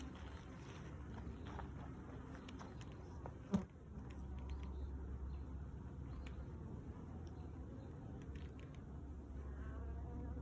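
Honey bees buzz at an open hive during an inspection, a steady low hum with a smoker in use, continuous and moderately close, with a brief knock partway through and no speech.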